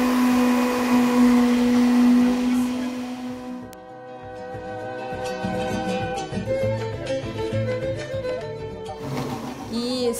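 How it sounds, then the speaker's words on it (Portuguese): A blender whirs loudly, chopping ingredients for a pirarucu lasagna, then cuts off midway and restarts briefly near the end, with soft kitchen clatter in between. "Agora nós vamos tampar e a mini chef Esté vai ligar o liquidificador."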